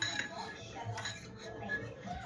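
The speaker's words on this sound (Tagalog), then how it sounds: "First, we're gonna stir it." Eggs stirred in a pan in a home kitchen by a child, light clinks and scrapes of a utensil against the pan, quiet and brief under background voices.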